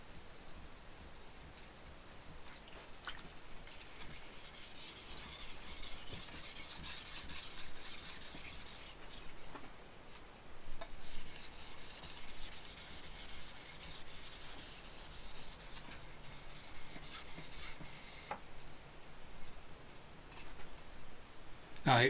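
A kitchen knife is sharpened on an 800 to 1,200 grit whetstone, giving steady, faint scraping strokes that run continuously with little pause.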